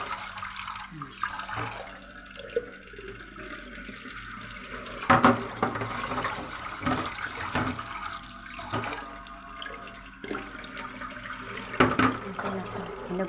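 Tap water runs steadily over brown rice being washed by hand, with occasional louder splashes and clatter as the grains are swished and rinsed in a container, fairly close.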